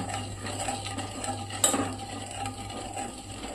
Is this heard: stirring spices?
yes